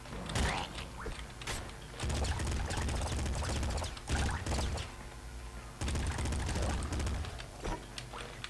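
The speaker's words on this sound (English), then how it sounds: "Popgun. Oh, that's like a shotgun, except it uses like the regular ammo." Rapid gunfire from the popgun in the top-down shooter Nuclear Throne: loud, dense bursts of shotgun-like shots with clanking mechanical game effects, continuing in heavy stretches with brief pauses, no voices.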